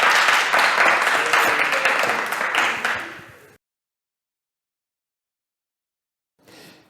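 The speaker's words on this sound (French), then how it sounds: "Applaudissez." Audience at a church pastoral gathering breaks into loud, dense clapping that fades out after about three and a half seconds, followed by silence and a brief faint rustle near the end.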